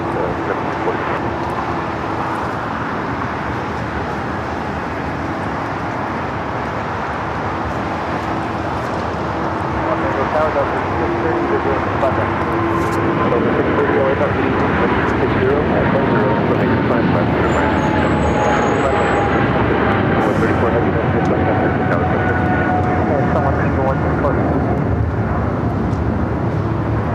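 A jet airliner rolls and climbs away on departure toward London Heathrow, a broad, continuous roar that swells gradually over nearly half a minute, with people talking over it.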